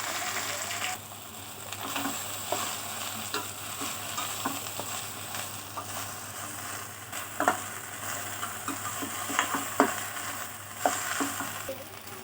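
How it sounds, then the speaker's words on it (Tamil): Chopped okra stirred and fried in a pan, a steady sizzle running throughout with repeated scraping clicks of the spoon, louder clacks near the end, close up and without talk. "வெண்டைக்காய் ஆட் பண்ணினே நல்லா மிக்ஸ் பண்ணி விட்டுக்கோங்க."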